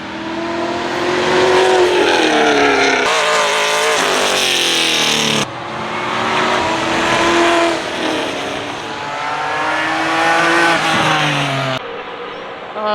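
A brand-new Cadillac CTS-V race car laps the VIR track, its engine loudly revving up and down through gear changes with occasional tire squeal as it passes close by.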